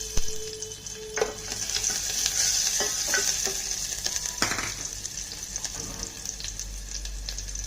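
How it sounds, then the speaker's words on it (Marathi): Garlic sizzles in a small amount of hot ghee or oil in a pan for a lentil weight-loss soup, a steady crackling fry with a few stirring clinks and scrapes, close and fairly soft. "तेल टाकलं की त्याच्यामध्ये लसूण टाकून द्यायचं."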